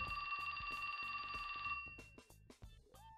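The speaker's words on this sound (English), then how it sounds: "That's my phone." A mobile phone rings with a bright, repeating electronic ringtone in a video game scene, starting loud and steady, then shifting into a fainter, more varied melodic tail.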